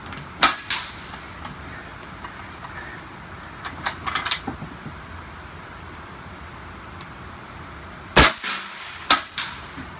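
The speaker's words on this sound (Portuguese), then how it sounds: "Então eu fiz aqui 5 disparos com esse chumbo de 144 grains." Several sharp 9mm pistol gunshots firing 144-grain lead rounds, two early, a cluster midway and a few more near the end, each a crisp loud crack with a short decay over quiet background.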